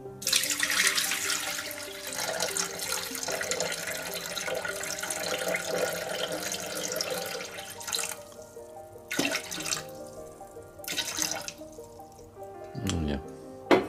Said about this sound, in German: Jetzt kommen 500 Milliliter Wasser in den Mixtopf.